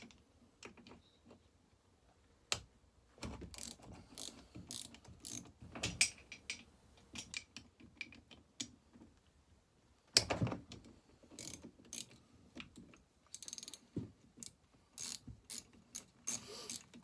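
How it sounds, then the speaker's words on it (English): Ratchet wrench clicking in quick bursts as small bolts come out of a McCulloch Super Pro 80 chainsaw engine block, close and fairly quiet, with pauses and a few louder knocks of parts between runs. "I'll go ahead and pause you while I pull all these little bolts out"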